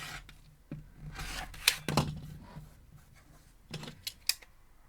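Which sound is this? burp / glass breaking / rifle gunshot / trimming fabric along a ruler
trimming fabric along a ruler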